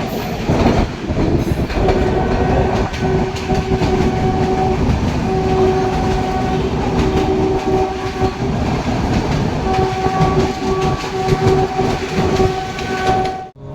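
A train arriving at Junagadh railway station rumbles steadily through the whole stretch with rattling wagons, and a long horn sounds in sustained tones; no voices are heard.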